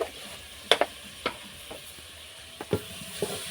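Vegetables sautéed with salt in a pan, a faint background sizzle punctuated by a handful of sharp, separate clacks of a spatula against the pan, close by and without talk.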